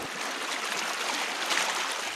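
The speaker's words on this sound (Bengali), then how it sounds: "ভেঙে গেছে বাঁধ হুহু করে লোকালয়ে ঢুকছে পানি" Floodwater pours through a breached river embankment into a low-lying settlement after heavy rain, a continuous broad rushing roar that stays steady and fairly close throughout.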